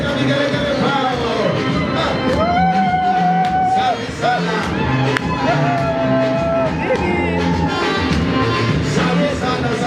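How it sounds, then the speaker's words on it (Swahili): Wedding guests clap and let out long, wavering ululations over a dense, loud crowd din, while someone speaks over the celebration. "Kama ni makofi na vigelegele pao."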